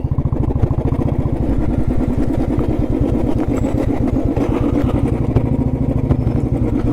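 Old Royal Enfield Bullet motorcycle engine running at idle, a loud, close, steady thumping with evenly spaced low beats and mechanical clatter throughout, no talk.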